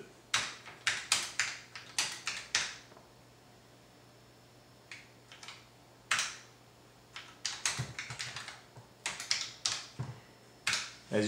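Keys clatter on a TRS-80 CoCo 2 computer keyboard as a program is typed, in quick bursts of close, crisp tapping separated by short pauses, over a faint steady electrical hum.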